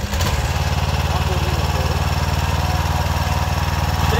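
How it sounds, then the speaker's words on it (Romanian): A mini tractor engine cranks briefly and catches, then runs at a steady, close, pulsing idle for the rest of the stretch. "ar trebui să dăm de contact de aici și să putem porni motorul"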